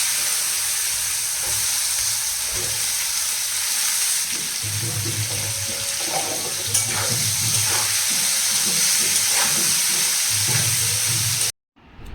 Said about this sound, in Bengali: এর সঙ্গে এবার যতটুকু তেল লাগবে তাই দিয়ে উচ্ছে কুমড়োটা ভেজে নেব